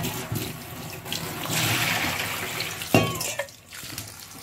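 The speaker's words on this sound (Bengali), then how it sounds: "ধনিয়া পাতা ভর্তা বানাবো, তাই একটু ভালো করে ধুয়ে নিচ্ছি।" Coriander leaves washed under a running kitchen tap make a close, steady rush of water with splashing and shifting flow, and a brief clatter near the end, with no talk.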